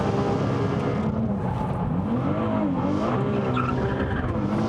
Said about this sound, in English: Hard on the brakes for the final corner.